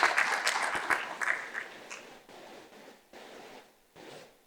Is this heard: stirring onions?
no